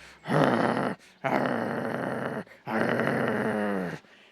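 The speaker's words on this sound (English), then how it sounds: "That's when you hear the low growl of the wolf" A deep, rumbling wolf growl comes in three long, sustained bursts separated by short pauses, close and loud with no other sound.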